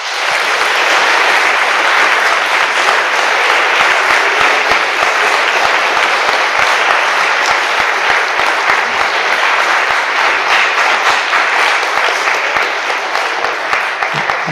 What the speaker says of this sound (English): a warm applause for these very enthusiastic people